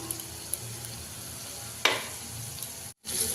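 Yogurt and spice masala for an aloo potol korma sizzles steadily in a pan while being stirred, with a sharper scrape partway through and a brief dropout near the end; no talking.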